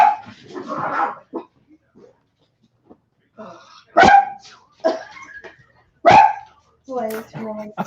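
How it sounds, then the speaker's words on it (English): Dogs bark sharply at close range, a few loud barks with short whimpering yips between, over the noise of an NFL game watch party with people talking early on. "Dogs decided to go crazy."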